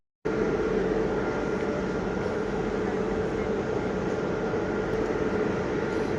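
A train in motion heard from inside, a dense continuous rumble and rushing roar that starts abruptly and holds steady and loud throughout.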